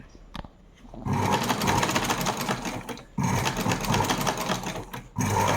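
Sewing machine stitching fabric for hair rubber bands, running in steady close bursts of rapid needle chatter with a couple of brief pauses between runs.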